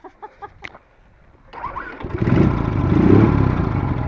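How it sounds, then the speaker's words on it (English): A Chang Jiang CJ 750 motorcycle kick-started: a few light clicks and taps, then the engine catches and settles into a loud, steady, close idle rumble. "Can you start the bike, Nancy?"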